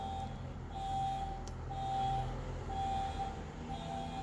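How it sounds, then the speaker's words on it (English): Evenly spaced reversing beeps from a truck, moderately distant, repeating over a low rumble of engine and traffic. "There's the beep beep truck."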